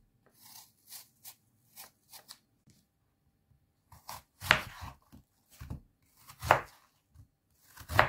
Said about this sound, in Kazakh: 4-5 топ турап аламыз.